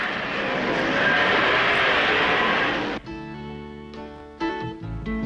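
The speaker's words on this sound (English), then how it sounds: "Gentlemen, start your engine." A Mini Minor car at Bathurst: a few seconds of broad rushing noise, then the small engine fires and runs with a clear buzzing note that steps up in pitch as it revs, near and fairly loud.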